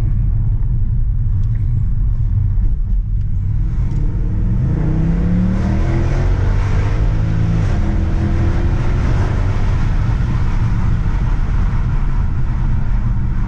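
A car engine rumbles low and loud, then revs up with rising pitch as it accelerates, climbing steadily through the gears.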